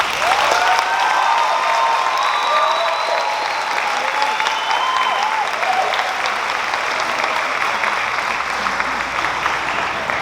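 Graduation ceremony applause for honors students standing in silver ropes, a broad, even roar of many hands clapping that stays loud and steady for about ten seconds, with faint voices and scattered cheers mixed in.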